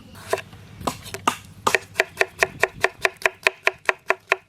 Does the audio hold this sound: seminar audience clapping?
no